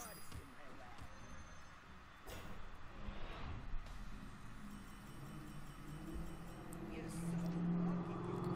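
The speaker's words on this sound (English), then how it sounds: "It's a really noisy car just went past my house." A really noisy car passes outside a house, its broad engine rumble swelling and lingering toward the end, heard from indoors beneath other sounds.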